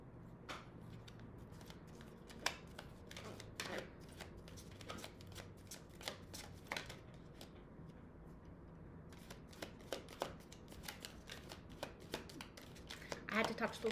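Tarot cards being handled and shuffled, a run of crisp riffling flicks and papery slaps in irregular bursts, close and fairly quiet, with a voice talking softly underneath at times.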